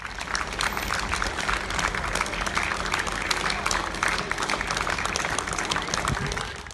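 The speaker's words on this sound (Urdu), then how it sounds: "کوئین ایلزابتھ ہسپتال کے ایمرجنسی وارڈ کے باہر تالیاں بجا کر front line staff, ambulance admin staff, nurses, doctors اور دیگر عملہ کو خراج تحسین پیش کیا گیا" Staff and onlookers clap outside the emergency ward of Queen Elizabeth Hospital in tribute to NHS frontline workers, a dense, loud burst of applause sustained evenly throughout.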